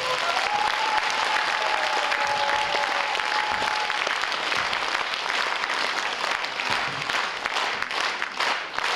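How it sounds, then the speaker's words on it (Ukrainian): A concert hall audience gives loud, sustained applause to welcome a guest on stage, thick steady clapping that fills the whole stretch, with a faint whistle-like tone briefly in the first few seconds. "Тож зустрічайте бурхливим оплесками"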